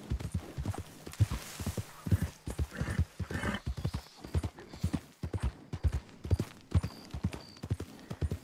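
Horse hooves clip-clop steadily in Red Dead Redemption 2, a rhythmic string of close, distinct hoof strikes at a walking pace, with a brief whinny partway through.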